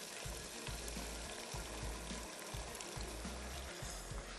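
Stock is poured into frying masala in a karahi, giving a steady, quiet sizzle with a bubbling hiss and low, irregular thumps of stirring underneath.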